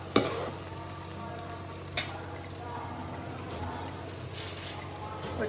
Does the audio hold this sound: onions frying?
yes